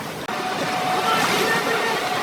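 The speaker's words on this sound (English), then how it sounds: "But soon after, the raft hits violent rapids." A raft smashing through violent river rapids in the Amazon, a dense continuous roar of churning whitewater and rushing current that stays loud and steady throughout, broken only by a brief cut near the start.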